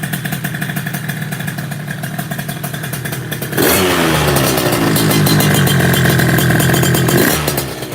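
A Derbi GP1 motorcycle's two-stroke engine fires on a kick-start, idling with a buzzy rattle before breaking into loud, sustained revving close to the listener, with no talk over it.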